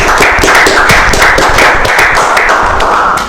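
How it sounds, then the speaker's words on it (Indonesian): Loud, close hand clapping from a small group, many quick overlapping claps that keep a fairly even rhythm throughout. "Tepuk tangan dong, tepuk tangan."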